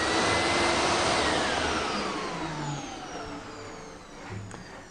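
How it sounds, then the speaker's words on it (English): A Pure i6 industrial steam and vacuum cleaner's vacuum motor runs with a loud whooshing roar and rising whine, gradually fading and dipping toward the end. "turn the vacuum on and off"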